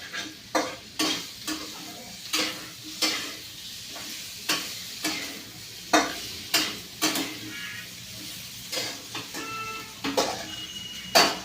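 Bitter gourd (karela) frying in a pan and stirred with a spoon, a steady sizzle broken by regular scraping, clinking strokes close up, with no voices.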